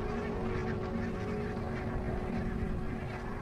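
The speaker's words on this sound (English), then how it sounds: "Every winter, barnacled geese arrive right on cue at the same Scottish river." Barnacle geese honking on a Scottish river in winter, a dense, continuous chorus of overlapping calls with no talk.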